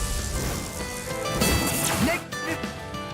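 Rain spell cast in the action RPG Tales of Arise, a hissing rainfall wash layered over battle music, sword effects and shouted character voices throughout.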